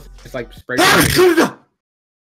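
A single loud sneeze bursts out right after a few quick words of casual talk, then the room falls silent.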